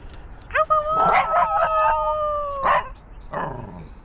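A dog howls inside a van on a road trip to Texas. The long, wavering, close howl lasts a few seconds, and a human voice joins in alongside.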